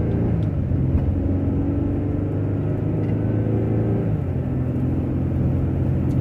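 A car engine runs steadily on a city drive, its vehicle recently fitted with two replacement axles, giving a continuous low rumble and whir that stays close and even throughout with no voices.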